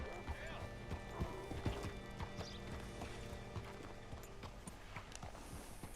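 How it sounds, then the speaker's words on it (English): Horse hooves clip-clop at a slow walking pace in Red Dead Redemption 2, steady and close, with a faint whinny and light speech beneath. "Hitch your horse up here."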